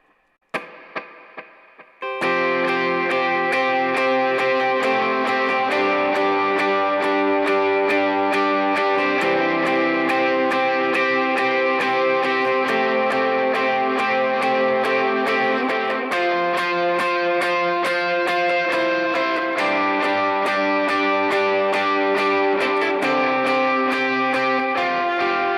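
Electric guitar playing the Holy Forever melody with a delay effect, a few plucked notes then a sustained, shimmering wash of repeating notes ringing continuously and evenly loud throughout.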